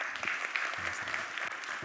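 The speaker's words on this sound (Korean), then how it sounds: "이 박수는 찔끔 박수라고" Brief, sparse applause from a congregation at a Sunday church service: a faint scattering of claps that lasts under two seconds.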